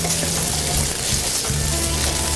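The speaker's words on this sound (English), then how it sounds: "Now as I'm stir frying that" Loud, continuous sizzling and crackling of food stir-frying with basil in olive oil in a hot pan, close by, with no voices.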